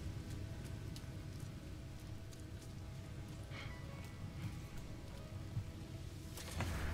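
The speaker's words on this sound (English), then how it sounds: "Sounds like rain." Rain falling in the video game No Man's Sky, a faint steady patter of drops spread evenly throughout, with a slight rise in the last moment.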